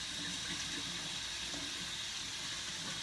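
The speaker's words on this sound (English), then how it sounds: "You just rinse it off in the water" Rice being rinsed in water, a continuous soft rush of running water like a tap or sink, faint and steady throughout with no talk.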